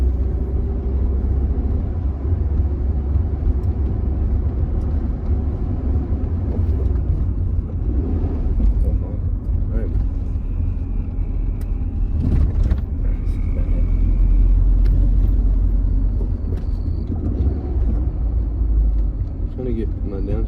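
A manual car is driven with a steady low engine rumble and road noise, rising slightly as it accelerates, while a person talks over it.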